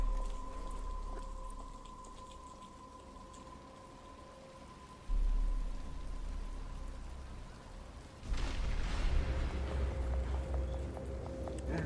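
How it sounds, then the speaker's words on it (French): Rain falls steadily in the video game Batman Arkham Asylum, a soft continuous hiss under low ambient hum that gets louder partway through, joined by thumping footsteps. "Il commence à pleuvoir."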